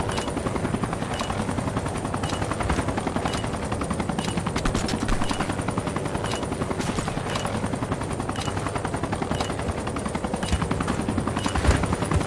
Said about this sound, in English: Detected the enemy's chopper.